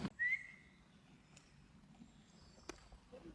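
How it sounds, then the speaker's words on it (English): A referee's whistle at a horseball training session with junior players, one short sharp blast near the start, then quiet outdoor ambience with faint clicks. "when I whistle, Bella's going to throw in"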